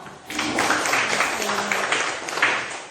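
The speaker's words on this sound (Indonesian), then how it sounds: "Tepuk tangan untuk kelompok." Students give a group a round of applause in a classroom, a dense, sustained clatter of hands that swells and holds for a few seconds, with some voices mixed in.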